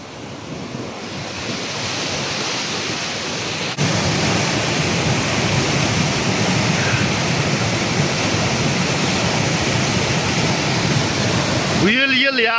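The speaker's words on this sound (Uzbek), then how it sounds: "manaki suv oqishi sel" Floodwater rushes through a brimming river in a village in Sherobod district, Surxondaryo, a dense, steady roar of flowing water mixed with wind buffeting the microphone, growing slightly louder partway through, with a brief whistle-like sound at the end.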